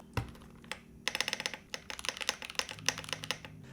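Rapid keyboard typing with a deep, thocky PBT spacebar and sharp clacking keys on a keyboard with a suspension system, close up, in uneven bursts and no voices.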